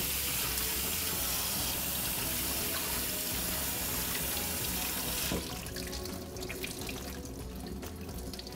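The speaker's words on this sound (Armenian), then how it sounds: "Ավելի լավ է սառը ջրով լվանանք։" Cold tap water pours steadily over spinach in a sink for about five seconds, then cuts off, leaving close, wet handling and faint drips of the rinsed leaves.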